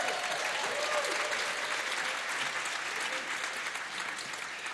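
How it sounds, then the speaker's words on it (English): Sustained audience applause fills a Christmas Bettakultcha talk night in 2011 as a speaker is welcomed to the stage, steady and dense throughout before tapering slightly at the end. "Big round of applause"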